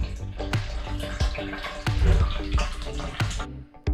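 Rainwater flowing in through pipes into a sand filter, a steady splashing and gurgling rush with drips, heard close and loud.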